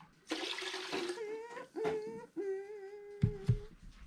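Vinegar and water pour into a pot for a turnip pickling brine, giving a close, splashy gush followed by steady ringing pouring tones with brief breaks and a few clunks near the end.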